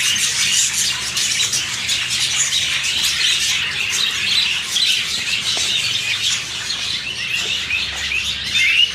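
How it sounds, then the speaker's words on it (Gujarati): Colorful parrots squawk and chirp in an aviary at Indroda Nature Park zoo in Gandhinagar, a busy, continuous chorus of shrill calls from several birds at close to mid distance, with no talking. "રંગબેરંગી તમને અહીંયા જોવા મળશે પોપટો."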